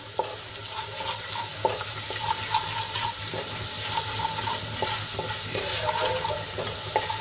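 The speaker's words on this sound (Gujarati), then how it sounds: "આદુ લસણ અને મરચાંની પેસ્ટ થોડીક સંતળાઈ જાય એટલે એમાં આપણે એક ચમચી ચણાનો લોટ એડ કરશું" Gram flour sautés in a pan with ginger-garlic-green chili paste, producing a steady frying sizzle close by, broken by regular scraping strokes of a stirring spoon.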